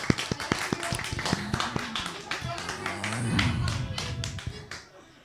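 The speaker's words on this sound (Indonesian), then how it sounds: "Ini tepuk tangan untuk PAC Kroya" Audience clapping at an IPPNU organizational gathering in Indonesia, heard as sharp, fairly close individual claps that thin out and fade, with talk and crowd murmur underneath.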